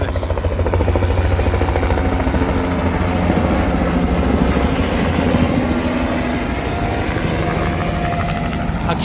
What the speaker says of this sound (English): Actually, it's a police helicopter, so they're all responding to the same thing.